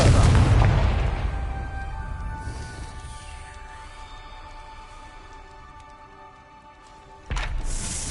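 A Confringo fire spell explodes in Hogwarts Legacy with a loud, deep boom that rolls into a long decaying rumble and magical shimmer, followed by a second sharp burst near the end.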